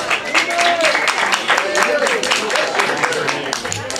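Lively applause and clapping from the audience at an open mic night at The Brew House Gallery greets the band, and voices call out over the steady patter of hands.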